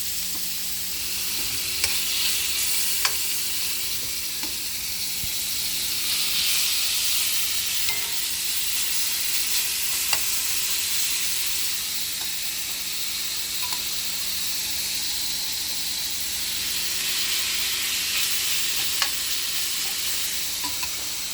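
Chicken bites fry in a pan with a steady close sizzle and hiss while being stirred and spread out, and faint scraping ticks sound over the continuous crackle throughout.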